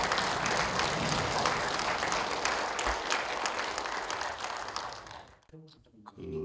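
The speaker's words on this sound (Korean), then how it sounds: "큰 박수로 맞이해 주시기 바랍니다." A lecture audience in a hall applauding to welcome a speaker at a cultural festival: dense, sustained clapping that fades out after about five seconds, followed by brief quiet and a faint sound.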